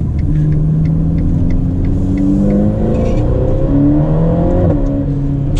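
Ferrari Portofino engine accelerating from inside the cabin, a loud rising rumble with engine pitch climbing through a gear, dipping briefly, then climbing again, steady and close with no talking.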